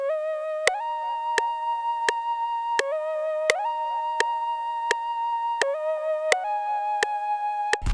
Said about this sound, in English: I got this Avalon Lead from Impulse by XY Nothing and Louis Flynn.